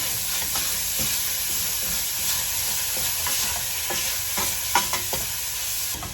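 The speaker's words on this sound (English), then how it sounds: "So I add the meat. First the beef and the pork." Beef and pork fry in a pan with celery and carrot, giving a steady close sizzle punctuated by repeated stirring scrapes and taps, with no talking.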